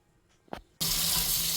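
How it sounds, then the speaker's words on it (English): Fresh fruit rinsed under a kitchen sink tap: a brief clink, then the faucet opens into a loud, steady close rush of running water. "Always wash your fruits"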